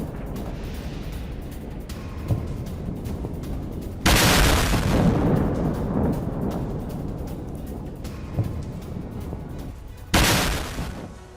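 Heavy booming blasts from an IDF airstrike on Gaza, two sudden loud bursts that roll out into a long rumbling decay over a background of debris and low noise.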